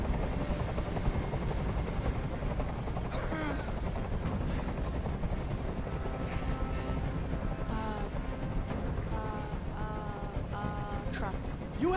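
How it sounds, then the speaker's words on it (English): A hovering helicopter's rotor in the game Detroit: Become Human thrums steadily and close, with scattered gunshots and shouting voices layered above the drone. "Tell that helicopter to get out of here!"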